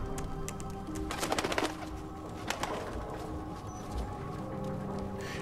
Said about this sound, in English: Oh, it's Basso's bird.